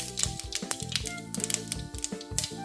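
Mustard seeds splutter in hot oil in a pan, throwing out a close, irregular scatter of sharp crackling pops over faint background tones.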